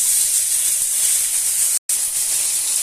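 Two large tomatoes added to hot oil with panch phoron and a dried red chilli make a loud, steady hiss and sizzle. The sound cuts out for a split second near the end.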